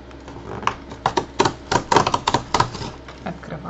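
A soft package of honey star breakfast cereal being torn open up close: a quick run of sharp crackling rips and crinkles, loud and alone with no voices.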